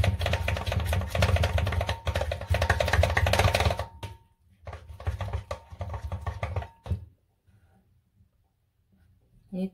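Yogurt cake batter of egg yolk, butter and yogurt is beaten by hand in a bowl, giving rapid, steady clicking and slapping strokes that pause, resume more sparsely, then fade into near silence.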